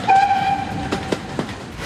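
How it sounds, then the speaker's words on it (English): A short, clear train whistle sounds once near the start, followed by a few soft rail clacks and a low rolling rumble. "Did you hear the sound from the train whistle?"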